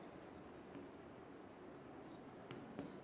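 Someone writes on a board during a classroom grammar lesson, producing faint, scratchy strokes and light taps in a quiet room.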